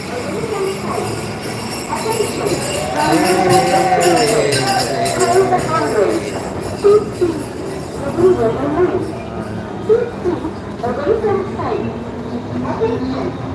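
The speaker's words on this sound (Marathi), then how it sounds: "आपली ट्रेन चालली आहे निघाली आहे" A passenger train rumbles along the rails in a steady, continuous roar, heard from inside a carriage under loud group singing of a bhajan.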